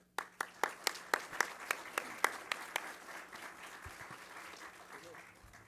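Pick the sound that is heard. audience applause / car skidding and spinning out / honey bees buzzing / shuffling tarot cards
audience applause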